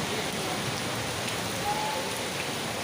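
Heavy rain pouring down in a town market, a dense, steady wash of drops on surfaces that stays even throughout, with no voices over it.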